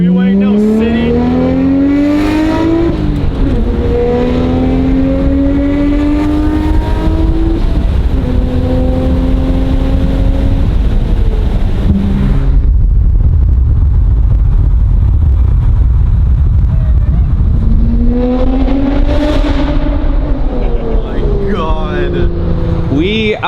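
A Nissan Skyline runs along an open, empty desert freeway, its engine rising and falling through several gear changes over steady road roar, loud and close from inside the car, with people talking over it at times.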